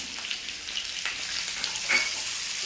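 Finely chopped onion frying in a pan, a close, steady sizzle with faint stirring scrapes, no talk.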